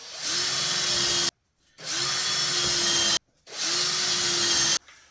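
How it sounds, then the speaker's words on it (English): Power drill boring three pilot holes into wood for a hanging plant frame, three separate bursts of steady whirring, each a little over a second long with brief silent gaps between, loud and close with no talking. "go ahead and put 3 pilot holes on each line that you drew at 3/4 of an inch"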